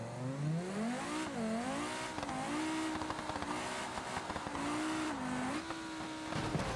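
An Audi S8 in BeamNG accelerates at full throttle, its engine note climbing and dipping through gear changes in a sustained loud roar, with faint tire squeal and no speech.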